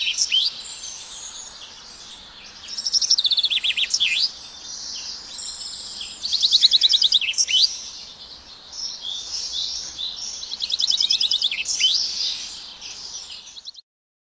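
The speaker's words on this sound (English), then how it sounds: "I'm going to play for you a sample of a finch making multiple suskewiets in a row" A finch gives repeated bright, high suskewiet calls in bursts, each series with a rising buzzy note at the end, fairly close with no other sounds.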